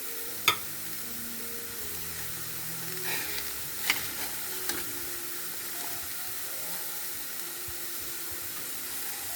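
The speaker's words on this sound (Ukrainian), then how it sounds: "картопля кипить, цибулька тушкується." A soft, steady sizzle and hiss of onion sautéing while potatoes boil on the stove, with a few faint clinks and taps; no one speaks.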